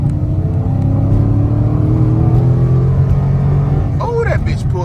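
An SRT-swapped Chrysler 300 with an 8-speed transmission at full throttle: a loud, deep engine roar with rising harmonic sweeps as revs climb, steady and close, briefly broken by a squeal near the end.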